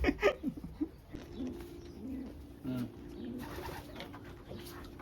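Racing pigeons in a loft, including a blue bar hen, give low, soft, repeated cooing in a steady murmur, with a few brief louder flutters near the start.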